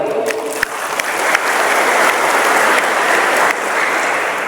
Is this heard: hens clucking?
no